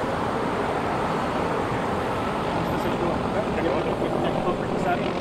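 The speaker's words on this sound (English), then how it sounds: "Who called the chopper?" A helicopter flies overhead as a steady, loud rotor rumble that fills the whole stretch, with people talking underneath.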